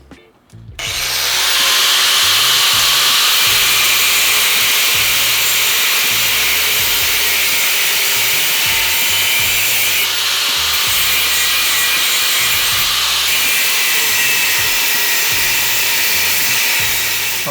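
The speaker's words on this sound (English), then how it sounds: "I'm gonna go ahead and cut this part off and cut it, shorten it" A power saw or cutting tool slices through an aftermarket MKM intake part on a Volvo 740 T5 project car, a loud continuous grinding rasp sustained for about sixteen seconds close up, with slight dips in pitch as the blade bites.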